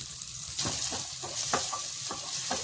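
Vegetables sizzle in a hot pan while a spoon stirs them, giving loud, close frying hiss punctuated by several scraping strokes, with no talking.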